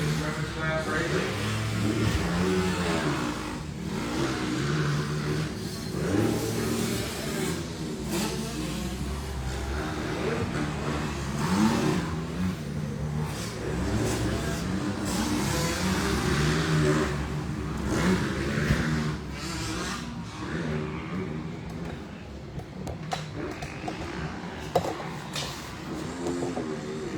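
Motocross bikes in a women's class race at Doublin Gap MX, engines revving and droning continuously throughout as a commentator talks over the steady mechanical roar.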